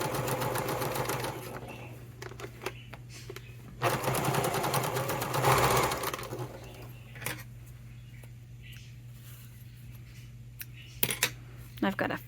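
An old sewing machine in need of servicing stitches a wallet. It runs in close mechanical whirring bursts between clicks and small metallic handling sounds.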